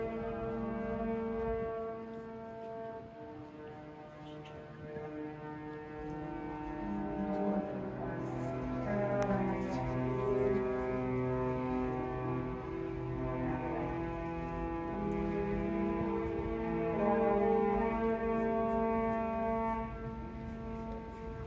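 Cruise ship horn sounding in Copenhagen port: a long, deep, steady harmonic blast that swells and lingers, echoing across the harbor for over twenty seconds, loud and continuous with no talking.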